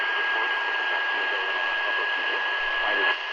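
Daytime AM broadcast received on a Tecsun PL-200 shortwave radio with an AN-200 loop antenna, a steady hissy, band-limited signal with a faint tonal whine throughout, fairly loud and continuous.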